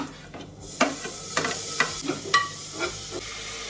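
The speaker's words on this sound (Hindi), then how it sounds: "मैंने राजमा ऑलरेडी स्टार्ट कर दिया. मैंने गार्लिक डाल दिया है और प्याज डाल दिया है." Garlic and onion frying in oil in a pan as rajma gets started, a soft sizzle and hiss under several spatula scrapes and stirs against the pan.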